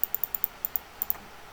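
Sharp, quiet clicks of a computer mouse, about nine in a quick uneven series, close by and alone with no talking.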